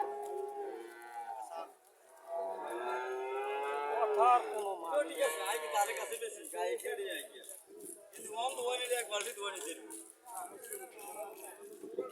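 A Haryana cow moos repeatedly and loudly at a cattle market, long drawn calls up close, with other lowing and market bustle around it.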